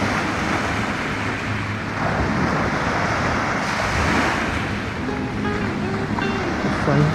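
Arabian Sea waves washing onto a small secluded beach at Al Bustan near Muscat, Oman, a steady broadband surf wash with gentle swells and a faint background hum.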